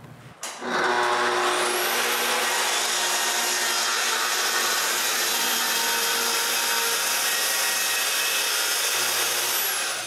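A power saw rips a strip from a full plywood sheet on a workbench, starting with a sharp spin-up and then holding a loud, steady whine and hiss for several seconds before easing off near the end.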